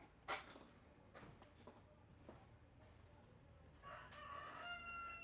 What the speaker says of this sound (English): That rooster's still, whatever he's doing, roostering, crowing.